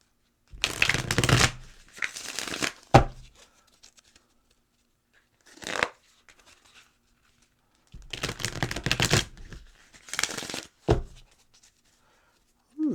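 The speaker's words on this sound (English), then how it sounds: "Give these a nice shuffle." A 54-card poker deck of 52 cards plus two jokers being shuffled by hand, with several close, crisp riffling bursts separated by pauses and short taps as the cards are squared up.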